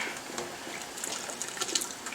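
Water pours into a pot for water bath canning of fruit-scrap preserves, a soft splashing and gurgling stream, close but fairly quiet, with small bright splatters throughout.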